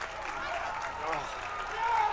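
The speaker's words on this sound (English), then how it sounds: "Listen to this crowd." A packed crowd at a WPIAL Class 3A high school baseball playoff game cheers and applauds in a steady roar that swells toward the end, with a voice faintly mixed in.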